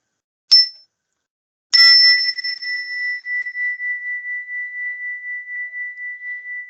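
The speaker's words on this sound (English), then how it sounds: "I'm going to strike the chime" A meditation chime rings out: a first light tap, then a clear strike whose bright tone sustains and slowly shimmers and fades over several seconds, alone in a quiet room.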